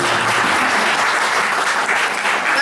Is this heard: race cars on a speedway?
no